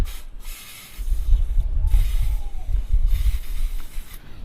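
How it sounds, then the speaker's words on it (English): An aerosol can of white lithium grease sprays in a few hissing bursts, close by, over a low rumbling background, during a brake pad change on a Yamaha MT-01 motorcycle. "I'll just spray a wee bit of lithium white grease"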